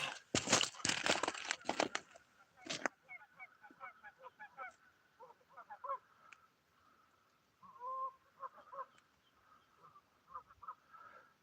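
Geese on Englebright Lake in Northern California honk in scattered calls after a loud opening burst of noise, the calls fading in and out at moderate distance.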